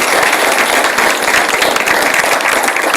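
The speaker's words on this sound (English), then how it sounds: "Let's give them another round of applause." A law-school event audience gives another round of applause for panel pioneers, a dense steady wash of many hands clapping, loud and continuous from start to end.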